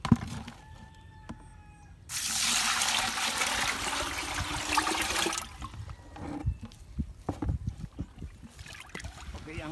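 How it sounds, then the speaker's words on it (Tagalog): Water gushes into a 2-kilo calcium nitrate drench mix for a few seconds, a loud broadband splash between quieter stretches with knocks and handling noises. "Lagyan mo ng tubig,"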